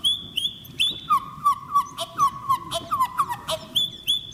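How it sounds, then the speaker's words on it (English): Sped-up whale song that sounds like birdsong: a run of high chirps, whistles and sliding tones in quick succession, moderately loud over a low rumbling background. "It's actually not a bird at all. It's a whale. The recording has been sped up."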